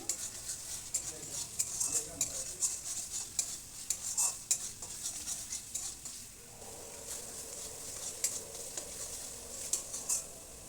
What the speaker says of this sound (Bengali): আদা, রসুন, পেঁয়াজের যাতে কাঁচা গন্ধ না থাকে, খুব সুন্দর করে মশলাটা কষিয়ে নিতে হবে।